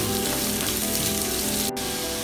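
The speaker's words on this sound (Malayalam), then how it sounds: "ഇനി നമുക്ക് ഇതിലേക്ക് 2 മീഡിയം സൈസ് സവോള ഇതുപോലെ കട്ട് ചെയ്തിട്ടുള്ളത് ചേർത്ത് കൊടുക്കാം." Sliced onions and green chillies fry in a pan for kothu parotta, a dense, even sizzle heard up close with no speech.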